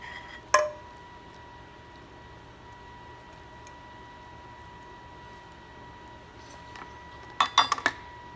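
Chicken and yellow rice served onto a plate: a sharp clink of a utensil against dishware near the start, a long quiet hum, then a quick cluster of scraping, clinking strikes near the end.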